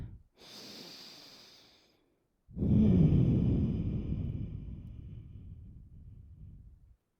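Deep, slow breathing during a yoga session: a soft, airy inhale followed by a long, louder exhale that trails off, close and alone with no talk.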